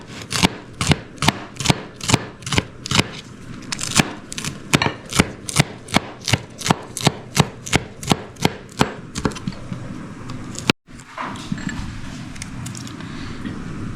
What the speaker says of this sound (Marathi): आता हे अशा प्रकारे बारीक बारीक कापून घ्यायचं जितकं बारीक कापाल लवकर शिजेल